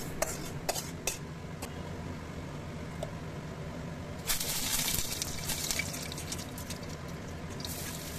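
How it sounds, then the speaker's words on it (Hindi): Rice fries in ghee in a pan, a soft continuous sizzle with scattered light scrapes and clicks from stirring and one louder, hissing stretch partway through. "जब तक हमारा चावल फ्राई हो रहा है"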